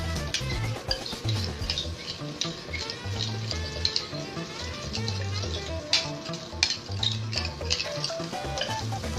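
Eggs stirred in foaming, lightly browned butter in a frying pan, free-range eggs: steady sizzle with soft scraping and stirring strokes in a close, continuous kitchen texture, no voices.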